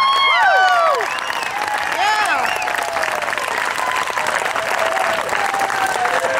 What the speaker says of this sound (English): Everybody, let's give him a big round of applause.